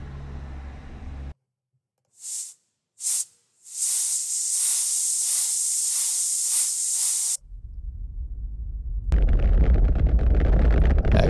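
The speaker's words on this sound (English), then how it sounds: "That rocket sound, awesome." Rocket sound effect from a sound library: after a short sharp burst of noise and brief silence, a few hissing puffs build into a loud, sustained roaring hiss, then a deep rumble swells into a blasting roar.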